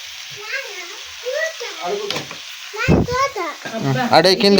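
Tomato pieces with salt frying in a pan make a soft sizzle beneath someone talking, with clattering stir noises and a voice breaking in toward the end.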